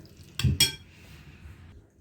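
Cutlery mixing tuna salad in a bowl gives two quick, close clinks against the dish, followed by faint soft stirring and scraping.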